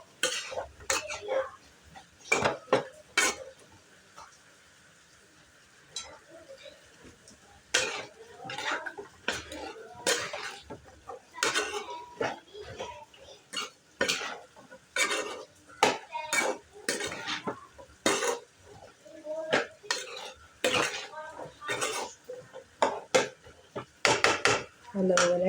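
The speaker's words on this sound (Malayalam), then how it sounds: "മസാലയും ഇതും കായും ബീറ്റ്റൂട്ടും നല്ലതുപോലെ ഇളക്കി യോജിപ്പിക്കാം" Spoon scraping and clanking in a pan while beetroot curry is stirred with masala, repeated close metallic knocks in irregular bursts with brief pauses between.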